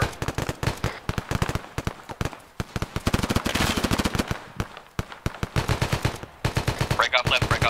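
Rapid, loud gunfire in ArmA 3: sustained automatic bursts and overlapping shots crackle nearly nonstop, with brief gaps between volleys.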